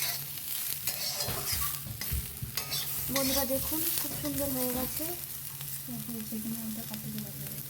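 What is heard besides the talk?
potatoes frying in oil in a pan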